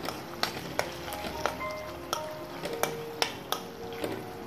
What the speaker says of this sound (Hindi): अभी हम इसको बराबर से मिक्स कर लेंगे